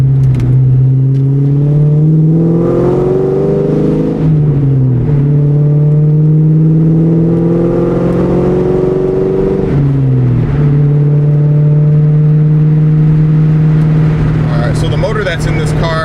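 A 1999–2004 New Edge Ford Mustang GT with its 2-valve V8 drones steadily while driving, with low engine hum rising and falling through gear changes, loud and close from inside the car.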